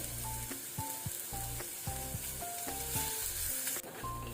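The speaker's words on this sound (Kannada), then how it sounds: "ಇದನ್ನೀಗ ನಾವು ಗೋಲ್ಡನ್ ಬ್ರೌನ್ ಆಗೋ ತನಕ ಫ್ರೈ ಮಾಡ್ಕೊಳ್ಬೇಕು" Onions frying in oil with salt, cooking toward golden brown: a steady, close hiss of sizzling under faint intermittent tones and light stirring, with no voices.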